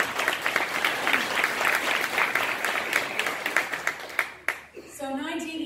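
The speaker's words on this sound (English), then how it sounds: "Let's give him another round of applause." Audience applause at a Saudi Arabia National Day event held by Tiffin University, steady and dense clapping from a crowd that carries on for several seconds, then thins out and fades away as a voice starts near the end.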